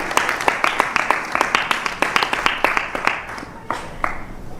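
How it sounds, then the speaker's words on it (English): A temple congregation at a Sunday feast program applauds the priests, with sharp, fairly close clapping in a steady burst that thins out toward the end. "A big round of applause to our pujaris for dressing them so beautifully"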